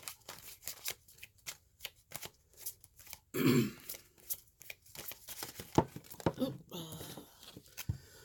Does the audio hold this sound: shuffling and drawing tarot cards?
yes